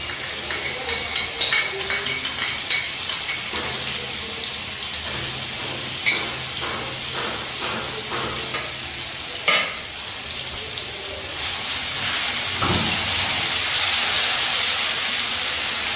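Crushed garlic cloves frying in oil over a low flame, a steady soft hiss and crackle running continuously with small irregular pops and occasional stirring scrapes, close and fairly loud with no talk.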